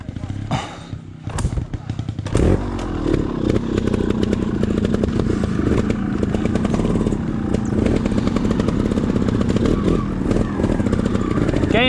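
A trial motorcycle revs and strains along a rocky trail near Pedra Grande in Igarapé, its engine note loud and close with irregular throttle bursts and clattering over rough ground for the whole stretch.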